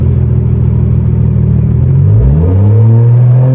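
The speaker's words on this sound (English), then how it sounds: "See, if I rev it like that" A BMW M340i engine idles with a deep, loud exhaust burble, then revs up sharply, the pitch climbing and holding at a throaty rumble, with no talking.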